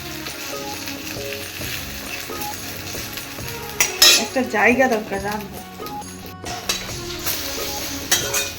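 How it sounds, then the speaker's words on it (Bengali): Eggs frying in a pan for a home meal of khichuri, fried eggs and potato curry, with clinking utensils, pot sounds and stirring in a busy kitchen while a person talks over the sizzle. "ডিম ভাজা হয়ে গেছে"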